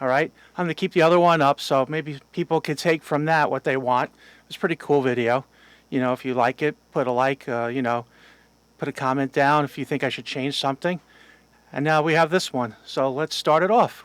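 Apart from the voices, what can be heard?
None of the usual background noises is heard.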